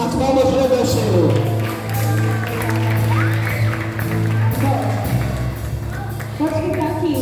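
Church congregation at a Portuguese-language praise and worship service clapping together, a loud, sustained wash of applause with cheering and shouting voices mixed in, over a steady low musical drone.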